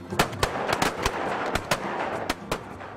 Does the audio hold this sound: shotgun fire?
yes